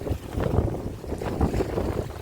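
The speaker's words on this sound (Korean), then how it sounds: "보다시피 이렇게 그냥 바람이 강풍이 불어가지고" Strong gusting wind buffets the microphone at a seaside breakwater by a salt-field harbor, a steady low roar with surging gusts and no voices.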